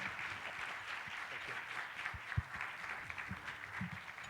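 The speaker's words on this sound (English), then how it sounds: "Let's give a very big applause to our old friend" An audience at a policy dialogue conference gives applause for Victor Fung, with fairly quiet, scattered clapping and a few louder individual claps, under voices talking in the room.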